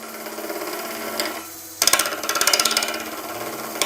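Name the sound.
wood lathe turning epoxy and timber at 1400 RPM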